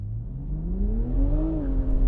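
A 2020 BMW Z4 Roadster in Sports Plus mode launching from standstill, its engine note rising steadily in pitch as it pulls hard, heard from inside the cabin without talk.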